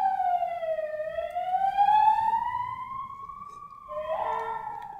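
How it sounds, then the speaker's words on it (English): An emergency vehicle siren wails through a city street, its tone sweeping slowly up and down before shifting to a different pattern near the end, fairly loud and carrying over the urban background. "The thing about living in the middle of the city is like sirens all the time."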